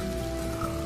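Steady rain falls through a short scene of a Hindi cartoon story, a soft continuous patter at an even level with no voices.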